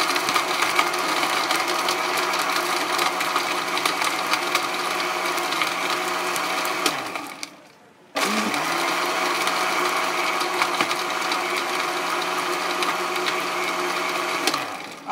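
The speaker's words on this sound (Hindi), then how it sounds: "यहाँ पर अब इसको ग्राइंड करेंगे जूसर में," Juicer grinder motor whirring steadily while grinding sattu, a loud continuous drone that briefly dips and winds down near the middle before starting again at full speed, with no talk.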